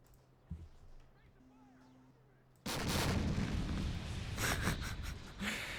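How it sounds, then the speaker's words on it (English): An artillery barrage in the Call of Duty: World War 3 mod strikes an armored LAV-25, a quiet lull with faint sounds suddenly broken by a loud, sustained roar of blasts and rumbling explosions, with sharp impacts continuing. "That was a coordinated barrage."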